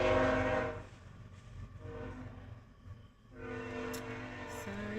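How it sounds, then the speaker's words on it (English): A train passing nearby, its loud, droning horn blasts sounding over the low rumble of the cars, the horn fading for a moment and then returning at full strength. "Sorry about the train."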